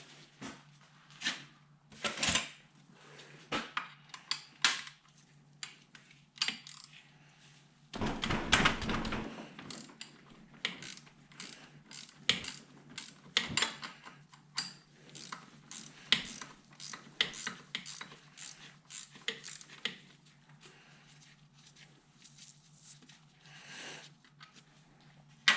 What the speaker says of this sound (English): We'll go ahead and take this piston out real quick and